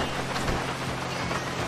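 Rain falls in Grand Theft Auto V, a dense, even patter of drops on the ground, close and steady for a brief moment with no talk.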